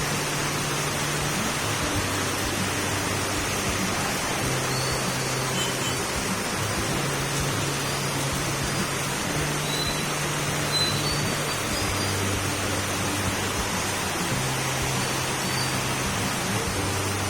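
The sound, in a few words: heavy rain during Typhoon Hanna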